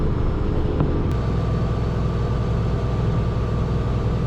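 A farm tractor engine runs steadily during hay baling work, a constant low rumbling drone heard close up and without a break, with no talking over it.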